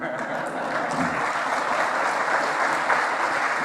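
Sustained audience applause fills a religious gathering, dense steady clapping at even loudness throughout with faint voices underneath.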